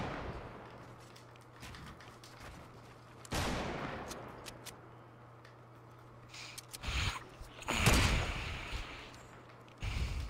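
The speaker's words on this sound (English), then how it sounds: "A team on the hill was shooting at us too" Gunfire in the Fortnite battle royale game, with a team on a hill firing: scattered bursts of shots over steady background noise, with a louder volley near the middle and another toward the end.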